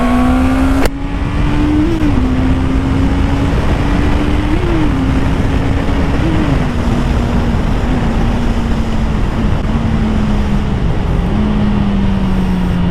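A Honda CBR 650R sports motorcycle riding, its engine droning loud and close with a high-revving note that climbs and dips through several gear changes, wind rushing throughout and no talking.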